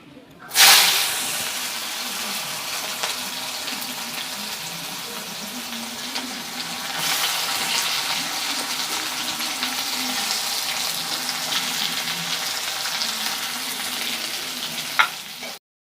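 Onions frying in hot oil in a pan, a loud dense sizzle that bursts up as they go in and then holds steady, with occasional stirring and a clatter near the end.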